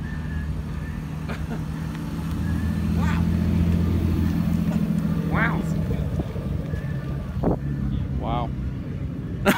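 A car rolling into an import car show, its low engine rumble swelling and fading against a noisy crowd, with people talking and calling out over the sound.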